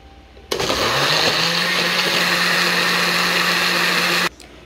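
A blender loudly grinds chiles, onion and garlic for chicken enchilado, starting abruptly with a steady high whir and cutting off near the end, with quiet before and after.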